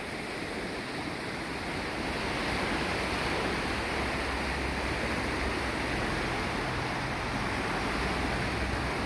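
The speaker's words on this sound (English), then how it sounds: "So we're just emptying all the water from that top lock with the boats in into this one." Water from the upper lock pours into a lower canal lock on the Great Glen Way, a steady, loud rushing roar that holds unbroken throughout, with no voices over it.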